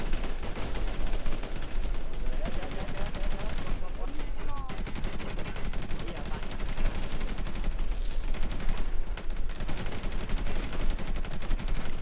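Gunfire in a shooting video game crackles in dense, continuous bursts of rapid shots, loud and close throughout with a thick wash of noise, while a voice talks underneath.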